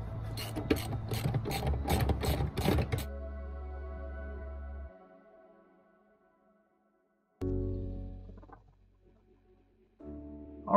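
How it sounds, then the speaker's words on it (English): Bolts being snugged down on new aftermarket bucket seats in a 1993 Chevy OBS truck: a burst of rapid ratcheting rasps up close, then a lower rubbing hum, a pause and a few softer clicks. "I'm gonna drop the bolts in, snug them up, then we'll work on the back."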